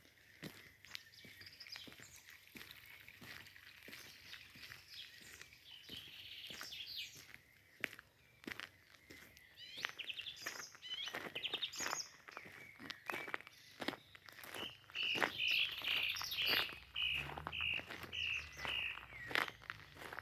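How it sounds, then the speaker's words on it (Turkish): Birds chirp and sing outdoors among blooming acacias, faint to moderate, with bright calls gathering toward the end, over a steady run of nearby footsteps on a path. "Ben konuşmuyorum. Kuşlar konuşsun."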